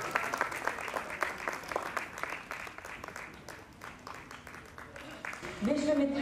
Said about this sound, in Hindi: एक बार जोरदार तालियों से उन सबका स्वागत करें।